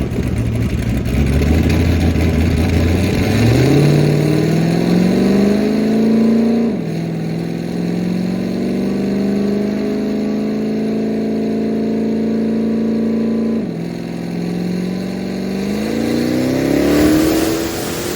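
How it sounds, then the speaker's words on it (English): A stock-bottom-end LS3 V8 with an 88mm turbocharger at 15 psi boost, naturally aspirated camshaft, stock intake and TH400 transmission makes a dyno pull. The loud engine drone climbs steadily in pitch through the gears, with two brief drops at the shifts. "stock bottom end LS3, naturally aspirated camshaft, stock intake manifold, TH400, and this is that final pull"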